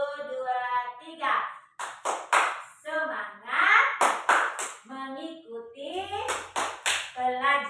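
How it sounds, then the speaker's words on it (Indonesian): Children in a sixth-grade classroom clap together in rhythmic bursts of sharp hand claps, mixed with chanting and a teacher's voice leading the group. "Tepuk tangan, tepuk semangat."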